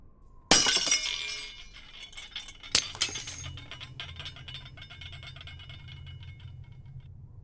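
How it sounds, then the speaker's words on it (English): Glass shatters in a sharp loud crash, followed by a second smaller break and tinkling shards settling, then a low steady hum underneath with no talk. "wraps it around his wrist and his fist and smashes out the window."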